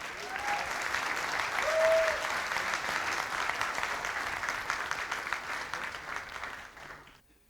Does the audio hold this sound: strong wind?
no